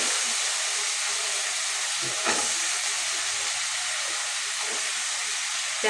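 Eggplant and potato fry with spices in an oiled pan, a steady, close sizzling hiss that continues without a break, with a faint clatter partway through.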